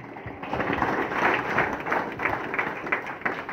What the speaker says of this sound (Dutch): Heel groot applaus, de drie kandidaten, Roelof Storm, Patrick Meijer en Joost Blee.